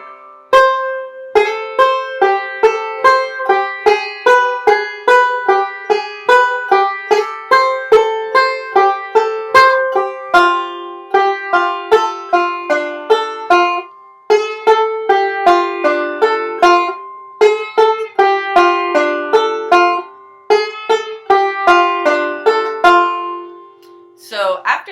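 The B part of Kansas City Railroad Blues is played on banjo, a bright run of rapid plucked notes in a steady rolling rhythm, close and alone for the whole stretch.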